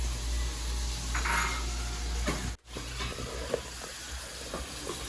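Fish frying in a home kitchen pan before a miso sinigang, a constant close sizzle and hiss with faint stirring and clinks, cut by a brief dropout partway through.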